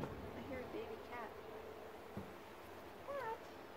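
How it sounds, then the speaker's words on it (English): Several thin, high-pitched kitten meows come in short bursts, spaced apart, over faint background noise outdoors. "I hear a baby cat."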